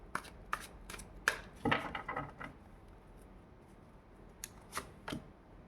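Tarot cards being handled and drawn, giving soft close snaps and flicks. A brief shuffling flurry comes in the middle, then a few sparse taps and slides in a quiet room.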